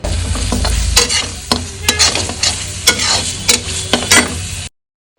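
Onion and ginger-garlic paste fry in a pan, giving a steady, loud sizzle broken by frequent scraping and clinking stirs of a spoon against the pan. There is no talking, and the sound cuts off abruptly near the end.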